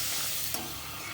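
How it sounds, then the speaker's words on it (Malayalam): Pappadam frying in a pan over a low flame gives a steady, close sizzle with a brief crackle midway, heard alone. "പപ്പടം നന്നായിട്ട് വറുക്കുക."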